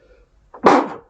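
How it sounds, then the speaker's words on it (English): A single sharp sneeze bursts out near the end, loud and close, after a brief quiet intake of breath. "Random sneeze, apologies."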